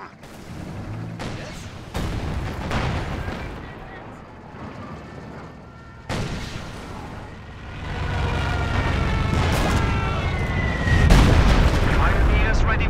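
A Stuka dive-bombing attack in the strategy game Company of Heroes 2: sharp booms and bursts of gunfire recur across the scene and build into a sustained roar of explosions near the end, with brief speech in between.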